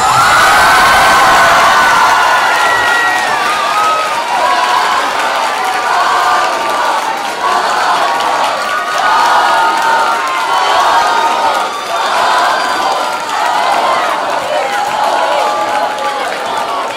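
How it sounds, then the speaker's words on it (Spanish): A school-hall audience at a student talent show cheers and claps for a Village People act, loud and sustained with shouts and whoops throughout, easing slightly toward the end. "Pues recibimos con un fuerte aplauso en el escenario a los Village People."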